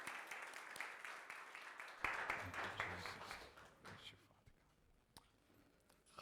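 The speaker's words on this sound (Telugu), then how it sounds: "పాస్టర్ గారిని చప్పట్లతో ఆహ్వానిద్దాం." A church congregation at a Telugu worship service claps to welcome the pastor, with a dense burst of applause swelling around two seconds in, then thinning to scattered claps, with some voices mixed in.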